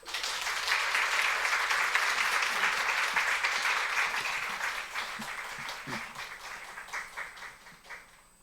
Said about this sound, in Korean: 환영의 박수로 모시겠습니다.